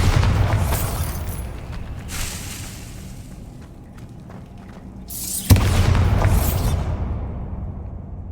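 A Bombarda blasting spell goes off in the Hogwarts Legacy video game as two heavy, rumbling booms, the second sharper and louder, each trailing into a fading roar.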